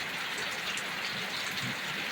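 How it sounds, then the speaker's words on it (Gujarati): Heavy rain pours down steadily in a dense, unbroken wash of close drops on a rural farm area, with no voices. "બહુ એટલે બહુ વરસાદ પડી ગયો છે મિત્રો."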